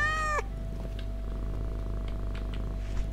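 A single short meow in a video game, Thief Simulator 2, followed by a steady low purr that carries on quietly and alone.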